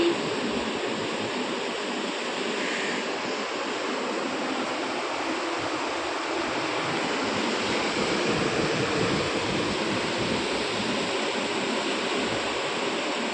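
Sea waves wash continuously onto a shore, a steady, roaring hiss of surf with gentle swells and some wind rumble, no voices present.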